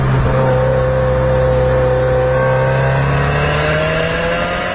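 Subaru WRX engine revving loud and close while driving, its pitch climbing smoothly through the gears with a strong steady drone and no talk.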